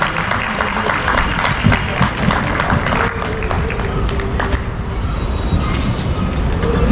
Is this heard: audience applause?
yes